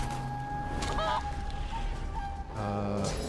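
A character transformed into a chicken in the video game Divinity Original Sin 2 gives short honking, clucking fowl calls in a few bursts. The calls sit over a dense, continuous game soundscape with sustained tones.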